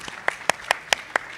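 Slow, deliberate claps at a sustainable energy forum in Barbados, six sharp separate hits spaced evenly about a fifth of a second apart, fairly quiet with a slight room echo.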